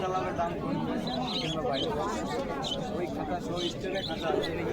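Pigeons coo softly amid the busy chatter of a crowded outdoor village market (haat), with many voices blending into the background.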